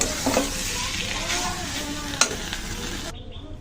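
Fried bottle gourd lifted from a wok crackles with a loud, close sizzle as a spatula scrapes and stirs, a sharp metallic clink near the end before the sound cuts off abruptly.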